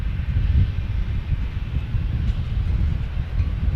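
An Amtrak train passing near San Diego airport gives a steady, loud low rumble with no clear onset or fade, holding through the whole stretch.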